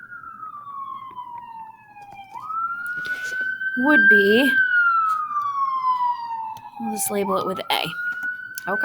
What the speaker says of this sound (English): I apologize for the sirens outside.